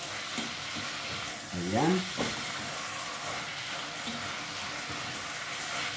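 Ground meat sizzles steadily in a pan, a close continuous hiss and crackle, while a brief spoken word cuts in near the start.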